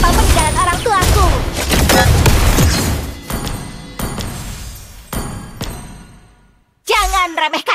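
Layla's gun fires in the Mobile Legends video game, bursts of rapid shots and booms packed into the first few seconds, then sparser blasts fading before a final short volley, with in-game voice lines over the action.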